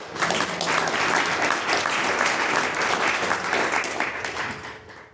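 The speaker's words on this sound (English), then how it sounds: "Let's give a round of applause" A large evening audience at an awards celebration breaks into loud, dense applause that holds steady for several seconds before tapering off quickly at the end.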